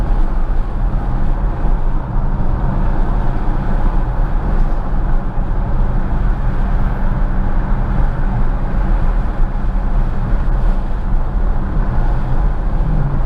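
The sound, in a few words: car engine with supercharger whine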